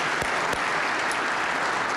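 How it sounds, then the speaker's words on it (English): Dense, sustained applause from a crowd at a Rental Housing Association award reception, a continuous even roar of many hands clapping together. "I just wanted a deserved round of applause for the RHA staff led by John Lafferty"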